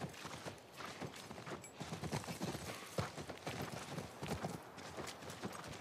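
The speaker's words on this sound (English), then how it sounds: "That's our horse" Horse hooves clip-clop at a walk in The Last of Us video game, an irregular series of soft thuds and knocks on the ground, fairly quiet and close, with no talking over them.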